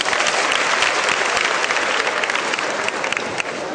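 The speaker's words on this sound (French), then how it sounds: "Applaudissez pour les femmes." A comedy show audience breaks into sustained, loud applause for the women, steady dense clapping from a crowd throughout with no talk over it.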